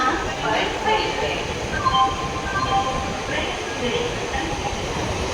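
A train rolls to a halt at a station, a steady rumble and rattle of wagons with faint squealing tones, heard close up with background noise.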